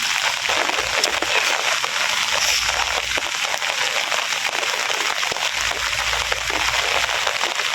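Heavy rain pours down steadily on a gloomy, overcast day near a rural home, with a dense continuous hiss, splashing and running water close by. No one is talking.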